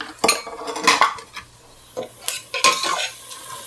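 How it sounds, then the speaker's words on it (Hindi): Sevaiyan vermicelli is roasted in a pan, with a spoon repeatedly scraping and clattering against the metal in short bursts amid quiet gaps and a faint sizzle. "सेवैयाँ डाल के मैं भून लूँगी इसको।"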